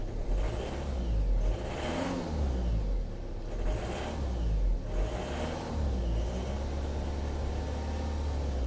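A Volvo 2.0 D4 190 hp diesel engine revs up and settles several times in a row after a fuel filter change, a close, rumbling rise and fall over a steady idle.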